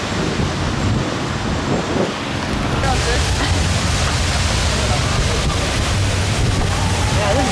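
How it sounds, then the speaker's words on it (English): Strong gusting wind during a summer storm in Budapest, a steady loud roar buffeting the microphone throughout, with rumbling low noise that swells after the first few seconds. "Wow, it's so windy, huh?"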